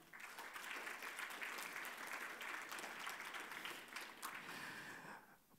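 Audience applause at a Polish awards and acknowledgements ceremony, a sustained round of many hands clapping that rises quickly, holds steady, and tapers off near the end.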